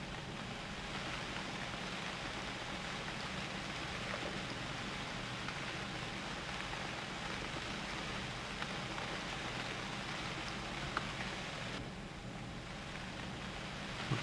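Steady rain falling in the survival game UnReal World, a continuous even hiss of moderate loudness that holds throughout, easing slightly near the end.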